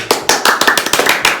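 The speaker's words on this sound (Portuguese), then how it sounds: "Palmas para ele!" Audience applause at a talk about the Norseman Xtreme Triathlon, a steady burst of many hands clapping close by, dense and even for the whole moment with no voices over it.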